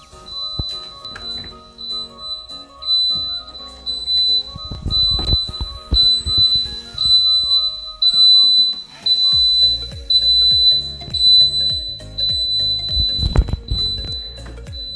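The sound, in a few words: door alarm ringing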